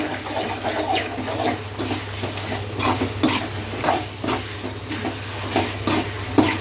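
Pepper chicken with ginger and garlic frying in oil is stirred steadily in a pan, a continuous close sizzle broken by repeated scraping strokes of the spoon against the metal.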